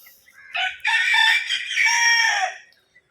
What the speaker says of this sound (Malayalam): ഇത് ഗ്രാമശ്രീ ഇനത്തിൽപ്പെട്ട ഒരു മൂന്നാലഞ്ച് കോഴിയാണ്